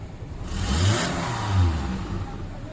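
A Toyota Hiace engine revs up twice in quick succession, a mid-pitched rising whir heard close by with no talk over it.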